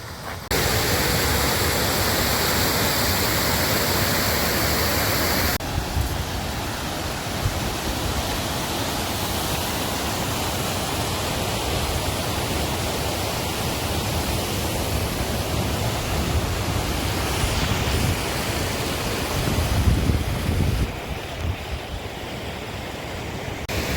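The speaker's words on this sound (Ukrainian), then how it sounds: "Ось такий він каньйон, шумить вода." Water rushes steadily through a canyon below a waterfall, a loud, continuous broadband roar that stays close and unbroken throughout with no voices.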